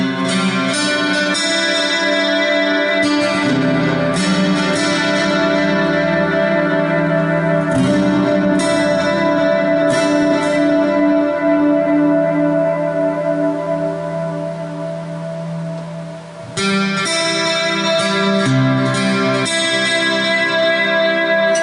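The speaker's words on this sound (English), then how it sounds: "now let's just turn on detuned harmonies and reverb." Strummed Washburn EA20 acoustic guitar chords drenched in shimmering detuned harmony and lush reverb, loud and continuous with brief pauses between phrases.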